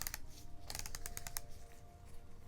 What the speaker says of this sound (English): It does have a firm click as well, so that's definitely going to lock in place.